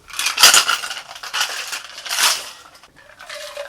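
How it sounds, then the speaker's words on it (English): Ice rattles hard inside a cocktail shaker while a Between the Sheets cocktail with Hennessy is mixed, a close, loud, continuous clattering with stronger bursts that eases off near the end. "So let's get some ice and let's give this bad boy a shake."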